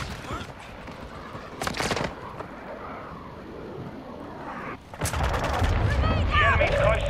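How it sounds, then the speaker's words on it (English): A cruise missile strike in the Modern Warfare II multiplayer game hits with loud bursts of explosions and gunfire, a sharp blast early on and heavier rumbling impacts later, under faint in-game voices. "Friendly cruise missile approaching target."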